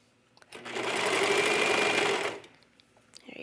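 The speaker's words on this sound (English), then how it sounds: "we are stitching with right sides together right now" A sewing machine stitches fabric with right sides together, running in one steady, fast whirring burst of about two seconds before stopping, close and alone.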